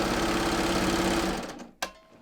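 A serger sewing machine chains off a leggings hem, running in a steady, fast whir for about a second and a half before winding down, followed by a single sharp click.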